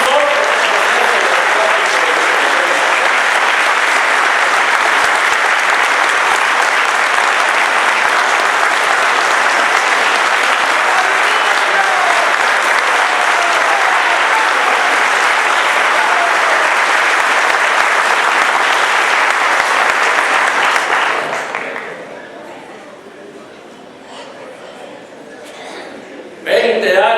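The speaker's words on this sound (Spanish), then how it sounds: "Yo pido un aplauso especial para Vinicio, porque él fue el impulsor del proceso." Sustained loud applause from an audience at a national political forum, dense clapping for about twenty seconds that then fades quickly, leaving a quieter room before a voice resumes.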